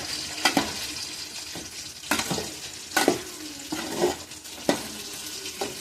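Vegetable rice fries in a pan while a spatula stirs it, with repeated scraping strokes about once a second over a low, steady sizzle.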